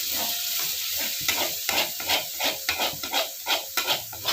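Water added to spices frying in a wok for Jogja-style bacem, a loud steady sizzle and hiss with rhythmic scraping strokes from stirring.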